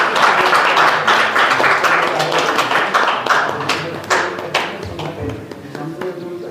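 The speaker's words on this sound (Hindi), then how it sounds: "तालियां बजाओ" Audience clapping at a government college ceremony in Chaubattakhal, many hands clapping loudly and unevenly at first, then thinning into sparser claps that fade toward the end, with voices underneath.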